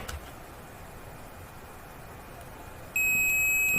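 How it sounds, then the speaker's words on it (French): A multimeter on continuity test emits a sharp, steady electronic beep that starts partway through and holds at full level after a quieter stretch of faint background hiss, with no talking. "vous réentendez le bip."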